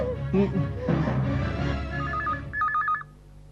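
Telephone dialing tones sound for a call on a TV serial: two short electronic beeping bursts follow some murmured voices and background music, then the clip goes quiet.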